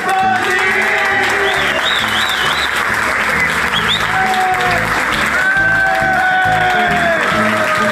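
Wedding guests at a Japanese wedding break into loud, sustained applause for the full stretch, with bright warbling tones and whistle-like calls riding above the dense clapping.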